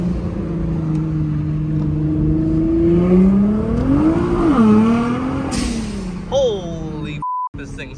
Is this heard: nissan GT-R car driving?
yes